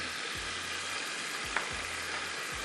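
Ginger garlic paste sizzles in hot oil with a steady loud hiss. A few low knocks and one short clink sound under it, probably from stirring or a utensil, and nobody speaks.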